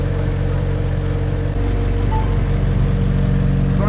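A McLaren 720S, rebuilt after being totaled, cruises along with a steady low engine drone and a slight shift in tone midway, heard from inside the car with no talking.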